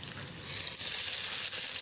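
Tomatoes and green chili frying in a pan over a lowered flame, a steady, soft hiss of sizzling oil with no voices.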